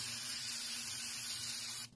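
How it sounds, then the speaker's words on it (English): A single continuous hiss of a spray bottle misting cleaner onto a rag, close and steady, cutting off abruptly at the end. "You just spray it right on your rag"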